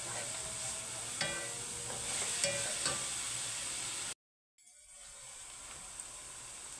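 Onions sizzle and crackle in a pan with oil added, with occasional stirring clicks. The sound cuts out briefly, then the frying resumes at a quieter, steady level.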